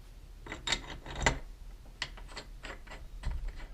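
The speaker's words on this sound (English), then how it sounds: "get it bolted in the vise so it's a little easier to work on" A Ford 9 inch third member is clamped in a bench vise, giving a few close metallic clicks, scrapes and clunks at irregular intervals, faint and sparse with no talking.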